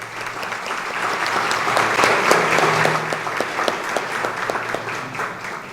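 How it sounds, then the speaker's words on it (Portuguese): An audience claps, building to a loud, dense round of applause that then thins into scattered, sharper claps. "vamos recebê-la com uma salva de palmas"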